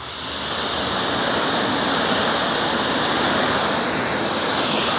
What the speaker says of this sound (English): you're gonna start noticing right now when I hit it with water